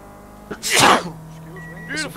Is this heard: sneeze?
yes